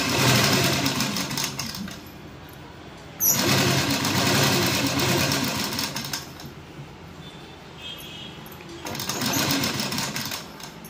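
A sewing machine stitches a pocket onto a gown in close, loud bursts of rapid mechanical chatter, with pauses between runs of stitching.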